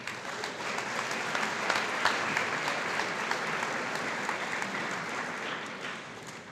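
A hall full of people applauds sophomore award winners at a high school awards night, dense, even clapping holding steady throughout with no talk over it.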